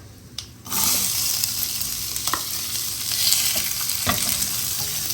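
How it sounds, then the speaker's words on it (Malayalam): Onion and tomato sautéing with salt in a pan, a close steady sizzle that starts abruptly after a quiet moment, with occasional stirring scrapes and clicks over it. "ആവശ്യത്തിന് ഉപ്പും ചേർത്ത് നന്നായിട്ടൊന്ന് വഴറ്റിയെടുക്കുക"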